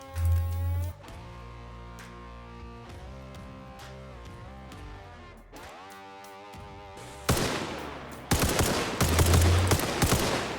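Rapid bursts of loud gunfire ring out in Arma Reforger with the REFX sound mod, erupting in the final few seconds after a stretch of music.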